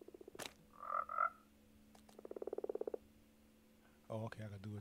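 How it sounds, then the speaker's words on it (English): A frog croaks in Minecraft, a few bursts including a rapid rattling series of clicks, close and moderately loud, with game sounds and a voice between them. "My frog's looking out for me."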